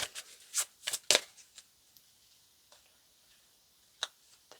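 Tarot cards shuffled by hand in a few quick riffling bursts close up, then sparse soft taps and clicks of cards being laid out in a quiet room.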